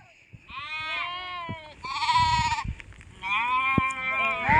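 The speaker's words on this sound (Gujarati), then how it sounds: "વિડીયોમાં તમને થોડોક બકરાનો જાજો બધો અવાજ આવતો હોય છે" Goats bleat loudly and close by in the rainy Gir forest, several long, wavering cries overlapping one after another with hardly a pause.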